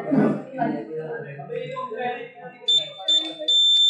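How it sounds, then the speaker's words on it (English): A voice talks, then a shrill electronic buzzer on a food spoilage detector, triggered by its moisture sensor, starts sounding in short on-off bursts, nearby and fairly loud. "The buzzer means when the food is spoiled."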